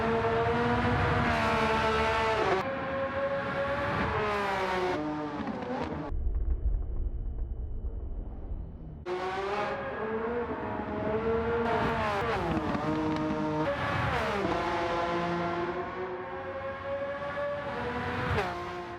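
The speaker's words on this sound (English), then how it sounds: "So now the car is actually available in Gran Turismo and people can play it on the PlayStation." A race car in the Gran Turismo video game on PlayStation accelerates through repeated gear shifts, its engine pitch climbing and dropping in rising sweeps, with a brief lull partway through before revving again.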